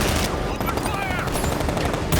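Rapid machine gun fire from the Batman Arkham Knight video game, loud dense bursts of shots over game noise that continues throughout.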